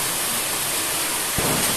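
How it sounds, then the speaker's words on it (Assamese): Steady, dense hiss of rain falling through damp Diwali-season weather, loud and even throughout with a soft thump near the end and no voices. "বৰষুণ আহিলে"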